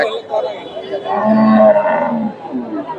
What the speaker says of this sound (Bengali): এখানে একটা দেখেন ক্রস জাতের গাভি, এগুলা মোটামুটি মিডিয়াম সাইজের গাভি।